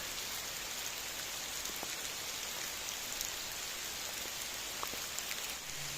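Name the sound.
rain falling in forest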